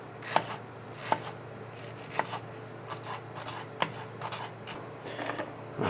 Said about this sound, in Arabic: ما بدنا اياها ناعمة ولا بدنا اياها خشنة، فبدنا نقطعها تقطيع وسط